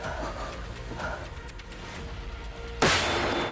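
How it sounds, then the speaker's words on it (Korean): A single sharp sniper rifle shot cracks out near the end at a military shooting contest between Korean special forces snipers, loud and abrupt after a stretch of steady background noise. "박보람 대원님 사격 딱 하는 거 보였어요?"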